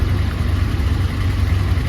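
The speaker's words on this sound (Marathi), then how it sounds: "भरपूर ट्रॅफिक लागलं आहे आता." Heavy road traffic on a highway toward Kolhapur during festival travel, with a low, steady engine drone and idling rumble from nearby vehicles, loud and continuous.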